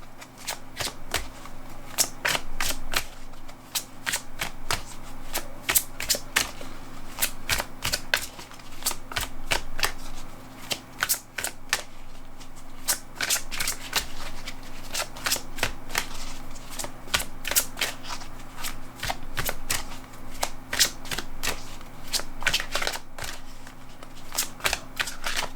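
A deck of oracle cards, the Oracle du Petit Enchanteur, is shuffled by hand at close range for a long stretch, making crisp riffling flutters in a quick uneven rhythm with brief pauses.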